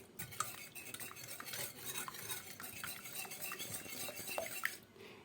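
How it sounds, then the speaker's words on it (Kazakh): Three eggs whisked with a pinch of salt in a bowl for milk pancakes: a utensil scrapes and clinks against the bowl in a quick, continuous rhythm for about five seconds, close and moderately loud, with no talking. "Жақсылап араластырып аламыз."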